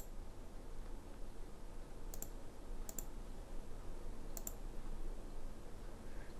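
Computer mouse clicking in Publisher: three crisp, isolated clicks spaced about a second apart over a steady low hum, close and fairly quiet, with no voices.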